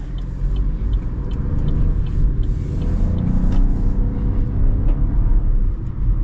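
A 2025 Chevy Trax compact SUV cruises along a road, its engine and tire rumble steady and close from inside the cabin.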